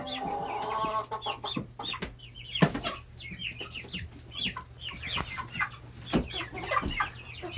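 Mixed flock of about fifty birds, Golden Laced, Easter Egger, Ameraucana, partridge and buff Brahma and silver laced Wyandotte hens and young roosters, together in a coop, keeping up dense overlapping clucks and chirps, fairly near and steady, with no talking.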